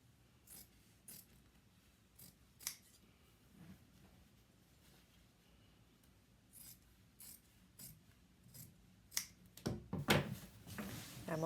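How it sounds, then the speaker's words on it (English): Scissors trimming chair upholstery fabric around the posts give sparse, sharp snips and soft fabric rustles, close and quiet, growing busier and louder toward the end. "I'm going to trim off these pieces here around the posts, leaving a 1/2 inch allowance"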